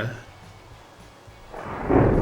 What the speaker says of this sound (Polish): to dosłownie przyciąga burzę